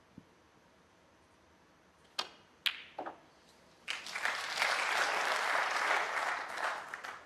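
An audience at a 2026 Players Championship snooker match between John Higgins and Chris Wakelin applauds a 108 century break. A few isolated clicks sound in a quiet room, then steady, dense clapping rises and holds.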